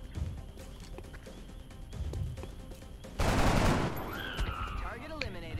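Gunfire from the XCOM video game breaks out as a short, loud, crackling burst of rapid shots, preceded by quieter game sounds and followed by a speaking voice.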